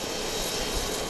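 A Southwest Airlines jet on its takeoff roll at night at Dallas Love Field, its engines giving a steady, loud broadband roar throughout.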